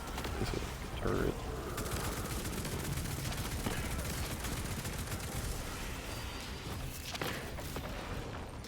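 Rapid gunfire bursts from a turret in The First Descendant video game, a steady dense clatter running throughout with heavier thumps, under occasional speech.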